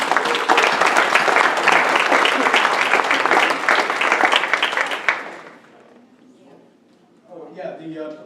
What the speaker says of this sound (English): I think you ought to give an applause to all the people that...